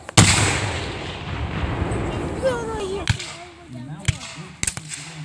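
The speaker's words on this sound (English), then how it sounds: "In the meantime, those two Yankee cannons have taken a position south of the Miller Farmer Road in the front yard of George W. Cook's house." Cannons fire at a Civil War battle reenactment, with a loud boom at the start followed by rolling echoes and several sharper, more distant reports, one of them leaving a brief whistling trail.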